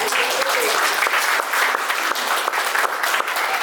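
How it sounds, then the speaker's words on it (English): Guests at a 50th wedding anniversary celebration applaud, loud close clapping that is dense and continuous from start to finish. "One more round of applause."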